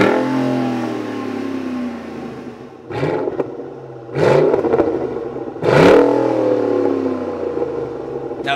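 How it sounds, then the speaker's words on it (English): A Ford Raptor V8 pickup fitted with a Corsa Extreme catback exhaust and Black Pro Series tip idles with a deep burble, then roars through three sharp revs spaced a second or so apart before settling back to idle. "I went with the Corsa Extreme catback exhaust with the Black Pro Series tip"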